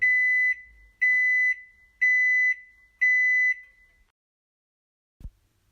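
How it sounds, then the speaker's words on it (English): A microwave oven sounds its finished signal: four loud, evenly spaced electronic beeps about a second apart, followed by a short soft knock and quiet. "As the microwave counts down to 0, you will hear a beeping sound when it has finished"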